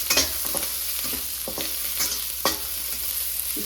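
Onion and curry leaves crackle and sizzle in hot oil, with sharp pops and stirring clatters scattered over a constant frying hiss, close up and without voices.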